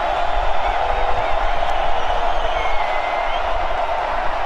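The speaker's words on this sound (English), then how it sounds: "Ross-Ade Stadium crowd making some noise." A football stadium crowd at Ross-Ade Stadium roars steadily through a college game between Bowling Green and Purdue, a continuous wash of cheering, whoops and clapping with no breaks.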